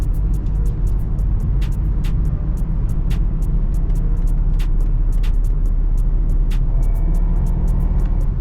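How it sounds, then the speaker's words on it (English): Inside a large car, the engine produces a steady low rumble throughout, with sharp clicks recurring at short intervals over it and no talking. "Yeah, that is just the engine noise for sure."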